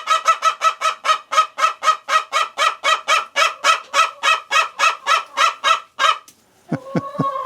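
A pet hen squawks loudly and repeatedly in a fast, steady rhythm of harsh gull-like calls close to the microphone, followed by a brief pause and a few lower honking notes.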